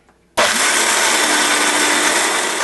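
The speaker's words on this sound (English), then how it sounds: "And let's see how happy or not our Vitamix is." A Vitamix blender kicks on abruptly and grinds thick raw carrot cake frosting, a loud, steady high-speed whine with a grinding roar that holds without a break after a brief quiet start.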